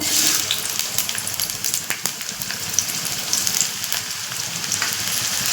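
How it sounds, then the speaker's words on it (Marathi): Onion fries in hot oil in a kadai over a low flame, making a continuous, close, busy sizzle with crackles and no talking. "गॅसवर आपण कढई गरम करून घेतले मंद आचेवर त्यामध्ये तेल टाकले आता आपण त्यामध्ये कांदा घालूया"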